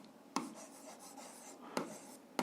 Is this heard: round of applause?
no